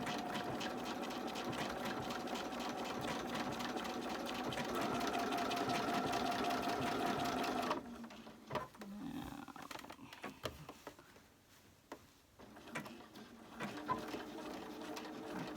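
Sewing machine stitching around a quilt piece, running in a steady fast whir for several seconds up close before stopping, followed by quieter handling noises and scattered clicks.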